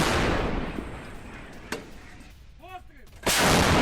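Artillery fires on Russian positions near Bakhmut in the war in Ukraine: a loud booming blast opens, a sharper report follows midway, and another heavy blast closes the stretch, with quieter rumbling between.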